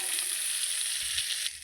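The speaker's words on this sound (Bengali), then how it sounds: "ভাজা হয়ে আসছে।" Prawns sizzle steadily in a hot pan for a milky prawn curry. The bright, continuous frying hiss is close and even, then drops off slightly near the end.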